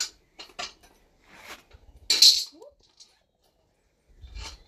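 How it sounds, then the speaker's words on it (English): A metal cooking bowl knocks and clanks as it is set over a Kadai firebowl outdoors, a few sharp metallic clinks and scrapes with quiet gaps between. "So we just need to put the cooking bowl over the Kadai."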